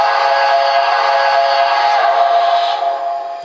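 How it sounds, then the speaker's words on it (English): A loud, sustained steam-style whistle from an MTH model Reading steam locomotive sounds close by, holding one chord-like tone for several seconds before fading slightly at the end. "Here's the whistle on the MTH."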